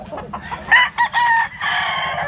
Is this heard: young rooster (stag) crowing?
yes